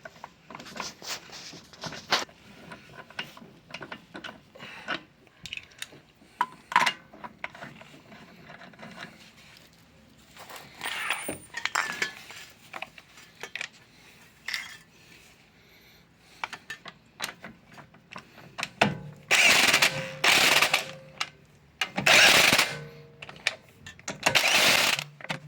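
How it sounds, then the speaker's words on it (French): A wheel bearing bolt is tightened on a Volkswagen Golf 6 1.4 16V. Scattered quiet clicks and taps come first, then several loud, harsh bursts of tool noise near the end. "On doit resserrer le boulon."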